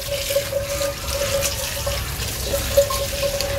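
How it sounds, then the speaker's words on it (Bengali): Tap water runs steadily into a sink as vegetables are washed, a continuous splashing rush with small irregular clatters and drips throughout. "তো এখন এগুলো আমি এখন সুন্দর করে ধুয়ে নিব বেসিন থেকে।"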